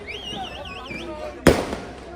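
A firecracker bursts once with a sharp, loud crack at an election campaign rally, heard through ongoing speech and a wavering siren-like tone in the busy outdoor crowd.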